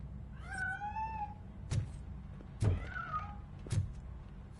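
A cat in the game Robocop Rogue City gives two drawn-out, wavering meows. Sharp knocks and thuds are scattered between them over a low background hum.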